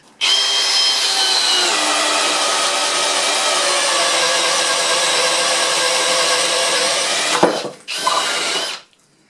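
A ToolPRO 18V hammer drill bores with a large bit at high speed, a loud close whine sustained for about seven seconds before it bogs and stops, then a short second burst before cutting out.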